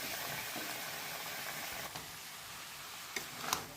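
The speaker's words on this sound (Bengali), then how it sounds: "মশলাটা কষানোর পর ভেজে রাখা সবজিগুলো দিয়ে দিলাম।" Fried vegetables tipped into a pan of cooked-down spice masala give a faint, steady sizzle with a few small clicks and knocks near the end.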